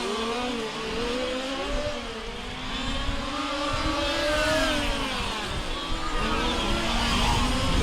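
Large-scale RC race cars at a world championship finals scream down the back straightaway, loud high-pitched engines revving and shifting in overlapping passes with Doppler sweeps, steady and close.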